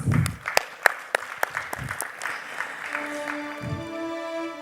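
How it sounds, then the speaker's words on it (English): Scattered clapping from a small audience at a panel discussion session greets an arriving panelist: distinct individual claps early on that thin out, followed by a sustained tone and soft background murmur. "Let's give him a big round of applause"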